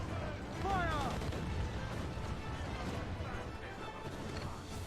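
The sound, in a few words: mortar fire in naval combat, Assassin's Creed IV: Black Flag video game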